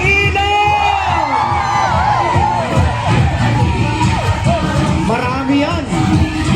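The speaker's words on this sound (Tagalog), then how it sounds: "hindi magpapatalo sa hiyawan ng bagong ilog" A large crowd from Barangay Bagong Ilog cheers and shouts at a Pasig Day celebration, with loud overlapping yells, whoops and children's screams filling the whole stretch and voices mixed in.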